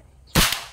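A single sharp crack as a tuned airsoft rifle fires one shot at a numbered target on a range, loud and close, with a short ringing tail after the snap and quiet before it.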